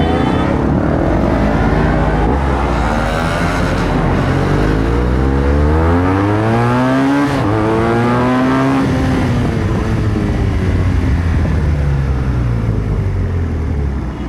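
A BMW motorcycle engine revs up and down through rising and falling pitch sweeps, loud and continuous with a steady roar throughout.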